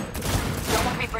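Rapid gunfire bursts from the video game Cyberpunk 2077 fill a loud, dense stretch of continuous shooting, with a player's voice partly heard over it.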